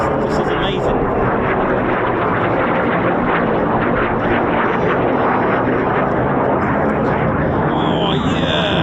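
USAF F-15 fighter jets of the 48th Fighter Wing roar overhead at RAF Lakenheath, a loud, sustained broadband jet rumble filling the whole stretch with a rising whine near the end, while people talk over it.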